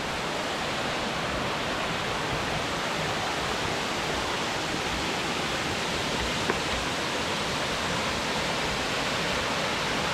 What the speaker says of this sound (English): coming up higher on the waterfall we were just looking at